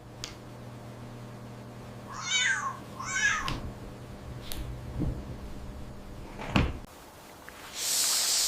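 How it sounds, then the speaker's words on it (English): A cat and a kitten meow in two clear, close calls a second apart, followed by scattered knocks, a sharp bump and a burst of noise at the end. "Cat and kitten."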